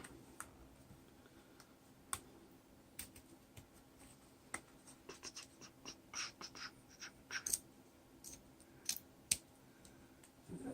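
Quiet, irregular snips and small crisp clicks of scissors cutting out a paper sticker, close and faint, with scattered pauses between cuts.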